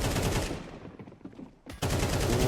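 Rapid pistol fire in a Counter-Strike 2 esports match, a loud burst of quick shots that fades into a short lull before another sharp volley resumes.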